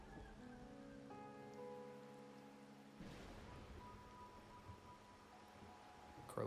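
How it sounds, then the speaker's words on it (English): Steady rain falling in the video game Wuthering Waves, a soft continuous patter heard alone with faint tonal game music fading in and out. "Is it gonna rain this entire mission?"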